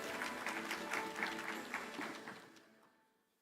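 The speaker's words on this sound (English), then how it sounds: "Let's give them a round of applause as we settle in." Audience applause at a technology and digitalization conference, a steady patter of clapping from the crowd that fades out over the last second or so.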